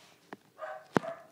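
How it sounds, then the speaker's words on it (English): A dog indoors gives a few short, sharp barks and a brief whine, moderately loud and close, with quiet pauses between them. "He normally barks outside, if there's someone outside."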